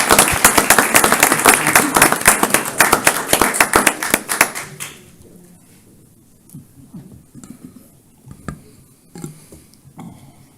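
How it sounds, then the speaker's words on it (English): A round of applause fills a county council meeting room, dense clapping for about five seconds before fading to a few scattered claps and quiet murmurs. "Let's give her a round of applause."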